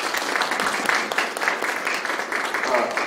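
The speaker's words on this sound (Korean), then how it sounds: "뜨거운 박수." An audience claps at a public relations lecture, with steady, fairly close applause that continues evenly throughout.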